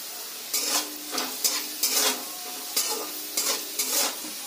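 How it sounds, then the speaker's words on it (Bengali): Cut potatoes frying in oil as they are stirred, with six bursts of scraping and sizzling at an even rhythm and a soft sizzle in the gaps, close and fairly quiet. "আলুগুলো দিয়ে ভালো করে ভেজে নিতে হবে।"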